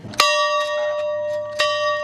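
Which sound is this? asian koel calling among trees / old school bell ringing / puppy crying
old school bell ringing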